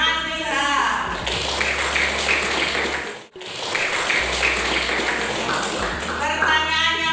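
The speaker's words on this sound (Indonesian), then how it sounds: "Tepuk tangan untuk Ilham." Students in a classroom clap together in a dense burst of applause, pausing briefly midway before clapping resumes, with voices over it.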